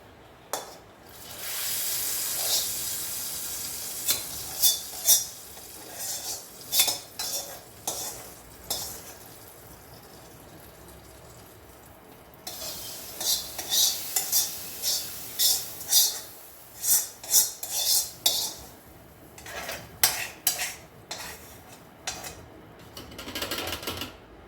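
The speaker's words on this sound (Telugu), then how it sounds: "ఇప్పుడు ఈ తాలింపు ఇందులో వేసేసుకుందాం" Hot tempering sizzles as it is poured into buttermilk soup, then a spoon stirs and scrapes the pot in bursts of clinking, crackling strokes with a quieter lull midway.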